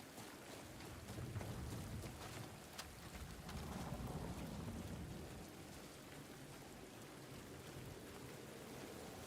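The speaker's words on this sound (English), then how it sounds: "I wonder if this rain helps me cool down faster." Steady rain with broad hiss in the Marathon video game, with low rumbling swells that suggest thunder, holding at an even level throughout with no talk.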